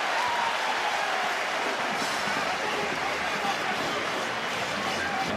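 Sold-out arena crowd at a college basketball game in San Diego, SDSU against Utah State, a steady roaring wash of cheering and applause filling the space, loud and unbroken throughout.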